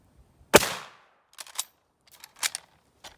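A bolt-action rifle, a Mauser K98k or Type 38 Arisaka, fires one sharp, loud shot with a short decaying tail, followed by several quieter metallic clicks and clacks from the bolt being worked.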